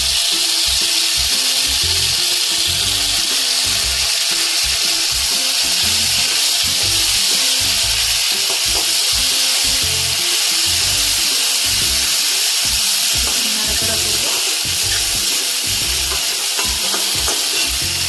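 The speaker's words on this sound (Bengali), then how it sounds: "এবার আমি এই কড়াতে এই তেলেই দিব আমি সর্ষে বাটা" Mustard paste fries loudly in hot oil in a wok, a dense continuous sizzle with steady scraping and stirring strokes throughout, close and alone.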